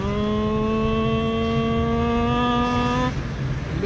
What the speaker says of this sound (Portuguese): Novamente, olha o barulho do motor.